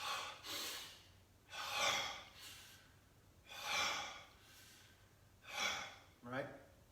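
Close, rhythmic breathing during a slow exercise routine, with about four deep, airy breaths spaced roughly two seconds apart and quiet pauses between them.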